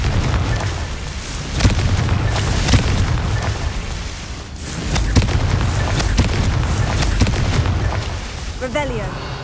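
Confringo fire-blast spells in Hogwarts Legacy go off as a run of loud, close booms and bursts, one after another, over dense rumbling game noise.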